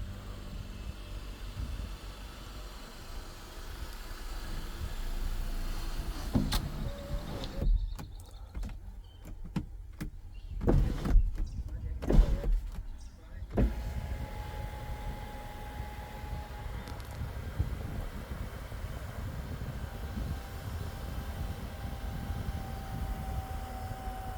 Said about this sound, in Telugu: సన్ రూఫ్ వర్కింగ్లో ఉంది